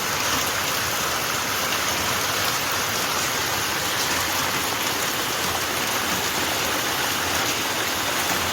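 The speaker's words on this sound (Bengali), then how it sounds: "এখনও বৃষ্টি থামেনি, প্রচুর বৃষ্টি হচ্ছে।" Heavy rain falls steadily in a village, a dense, unbroken roar of drops that stays loud and even from start to finish, with no voices.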